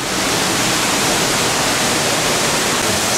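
A waterfall at Hamilton Pool, Texas, gives a steady, full-bodied roar of falling water, loud and unbroken throughout with no voices heard.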